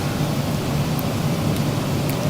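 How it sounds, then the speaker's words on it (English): Simulated rain in the X-Plane 12 flight simulator makes a loud, steady hiss like a broad wash of noise, unbroken and constant, with no voices. "Oh, we're getting rain. We're getting rain."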